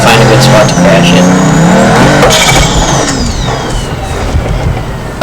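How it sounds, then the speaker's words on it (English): A supercar driven in the BeamNG.drive game, its engine revving loudly with rising and falling pitch and tires squealing through a skid, close and intense, with someone talking over it. "So let's go ahead and just drive around and find a good spot to crash it."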